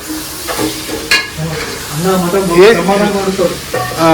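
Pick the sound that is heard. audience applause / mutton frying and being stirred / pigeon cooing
mutton frying and being stirred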